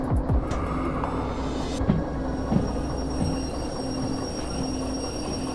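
A diesel locomotive in the Derail Valley railway game runs steadily on the rails, giving a continuous loud rumble with rail clatter and a few brief high squeals near the start.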